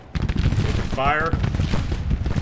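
Massed musket fire from troops in Grand Tactician: The Civil War at the Battle of Bull Run, a loud continuous rolling crackle of shots with a shouted command cutting through midway.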